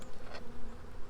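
Honey bees buzz inside a hive being checked on a winter day, a soft, close hum with a short louder swell partway through.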